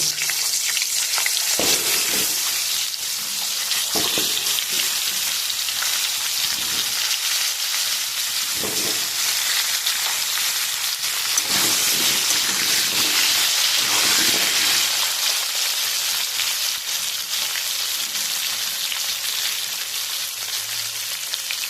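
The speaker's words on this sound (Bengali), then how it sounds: "একই তেলে আমি আলুগুলো ভেজে নেব" Potatoes fry in the same oil just used for frying bhetki fish for a Bengali curry, a loud, continuous close sizzle with occasional stirring clatters throughout.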